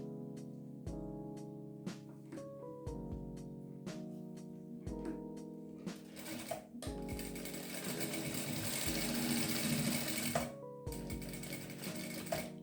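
A sewing machine stitches a crazy patchwork fabric coaster. Short bursts of rapid mechanical stitching alternate with brief pauses, then give way to a longer, steadier run. The sound is close but fairly quiet, with no talking.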